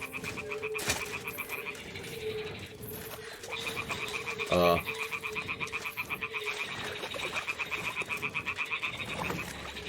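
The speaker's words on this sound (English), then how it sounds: "Ah, the toads are croaking here." Toads croaking at a pond in the game Kingdom Come: Deliverance II, a dense chorus of rapid, rhythmic croaks that carries on throughout at moderate loudness with one louder close burst near the middle.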